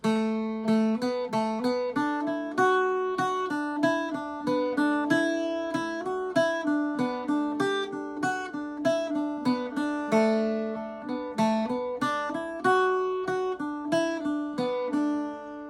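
Irish bouzouki playing the tune MacArthur Road steadily for several bars, crisp plucked notes ringing over one another in an even rhythm, close up with no talking.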